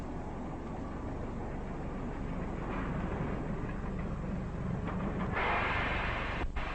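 Train rattling along the rails, a continuous rumbling clatter with a steady roar that swells slightly toward the end, heard as a constant noisy bed without speech.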